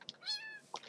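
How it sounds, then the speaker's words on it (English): Minecraft cat giving a single short, faint meow with a rising then falling tone, surrounded by light background sounds. "I got a kitty."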